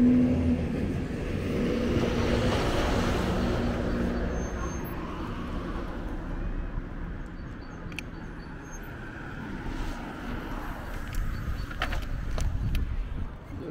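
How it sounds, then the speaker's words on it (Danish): A truck passes on a nearby road during a walk, a broad rumbling roar that swells and lingers for several seconds before fading under continuing traffic noise. "Lige vente på den der lastbil her."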